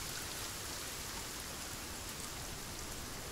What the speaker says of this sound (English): I swear I turned the rain off.